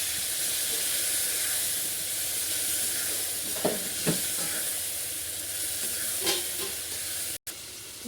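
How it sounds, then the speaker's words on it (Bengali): Fried potatoes cooking with added spices in a pan, a continuous loud hiss of sizzling oil with a few sharp stirring knocks and a brief dropout near the end; no one speaks. "এই দেখুন আলু ভাজা হয়ে গেছে, এখন মশলাটা দিয়ে দিচ্ছে। ভালো মতন কষিয়ে নেব"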